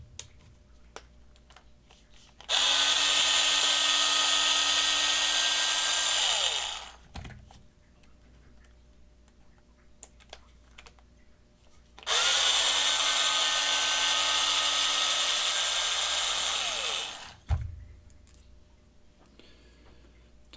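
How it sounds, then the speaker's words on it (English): Emery board filing the top of a steering block during a 1/10 scale RC race car build, heard as two long, steady, loud bursts of scraping of about four to five seconds each, separated by a quiet pause, with no talk. "we're just going to take an emery board to the top of it just to see if we can free it up a little bit more"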